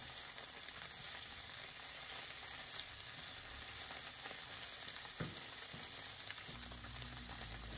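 Gimbap ingredients browning in a hot frying pan give a steady, close sizzle and crackle, with occasional stirring bumps and a low rumble near the end.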